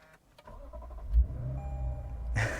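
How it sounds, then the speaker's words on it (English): A 2022 Lexus IS 500 F-Sport V8 engine fires up close by: a few clicks, then a deep rumbling flare as it catches, settling into a steady low idle with a sharper burst at the end. "And when you fire up this engine, just listen to it. It sounds so good."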